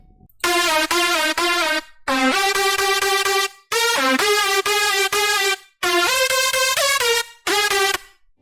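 A bright, buzzy synth lead plays a phrased melody of held and sliding notes, separated by short gaps, loud and alone with a touch of reverb.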